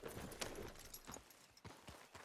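Horse hooves clip-clop at a steady walking pace in Red Dead Redemption 2, with a few sharper hoof strikes over a noisy outdoor background.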